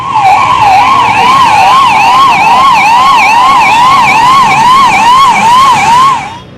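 A loud ambulance siren wails in a steady rising-and-falling cycle from start to finish while the vehicle is caught in traffic on Palace Road.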